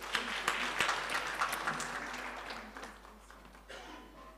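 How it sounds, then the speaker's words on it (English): A church congregation claps during a Sunday service, producing a moderately loud, steady patter of many hands that slowly fades over several seconds. "Let's clap for them."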